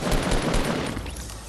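Continuous gunfire in the video game Fortnite, a loud dense burst of rapid shots that holds steady, then eases slightly toward the end.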